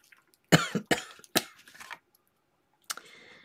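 A few sharp coughs close to the mic, bunched together, then a short pause and a faint click with a light rustle.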